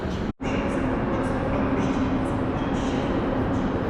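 An EP07 electric locomotive train at Wrocław Główny station gives a steady, loud rumble with a sustained tonal hum, broken by a brief dropout near the start, with no voices.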